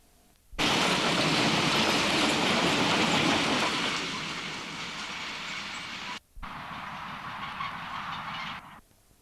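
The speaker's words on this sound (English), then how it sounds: "the sand train passes the Colliery Junction, then goes over the River Tone" Sand train passing on a railway line near Colliery Junction and the River Tone, a loud close rushing roar of wagons with rhythmic clatter that stops abruptly, then a second burst of passing noise, no voices.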